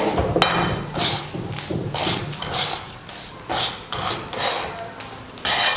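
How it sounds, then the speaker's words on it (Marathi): Semolina (rava) being dry-roasted in a pan on low heat, stirred in a steady rhythm of rasping, scraping strokes that repeat roughly twice a second, fairly close and clear with no talking. "गॅस कमी करून येणं आपण चांगला रवा भाजून घेऊया"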